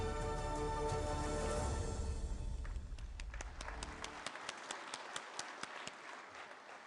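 Applause at a National Panchayat Awards ceremony, a broad steady wash of clapping from a large audience that thins into scattered, distinct claps toward the end.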